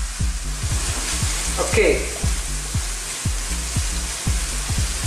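Chilli shrimp and vegetables sizzling steadily in a hot wok, with a rhythmic scraping of a spatula stirring through the frying; a voice speaks briefly.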